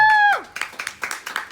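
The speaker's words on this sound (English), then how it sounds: "Somebody actually clapped for that?" A single person clapping in an audience at a university gathering: about eight quick, dry claps in a steady rhythm, close and clear, following a brief tonal sound.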